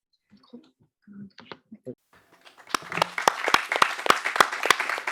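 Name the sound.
audience applauding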